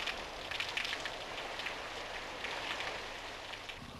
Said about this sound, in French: Par temps de pluie, l'eau s'infiltre dans la terre.